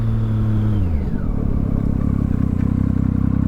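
A Triumph Street Triple R motorcycle engine drops in pitch as it decelerates sharply under hard braking, then settles into a rough, rhythmic idle up close.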